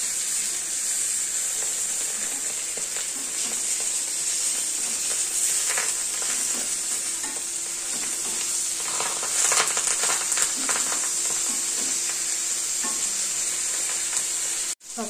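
Vetki fish paturi parcels sizzle and fry steadily in a pan, with a constant hiss and occasional soft clatters as they are flipped one by one; no talking.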